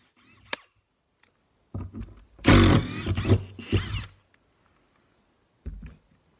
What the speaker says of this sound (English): I'm being careful to screw each screw into fresh wood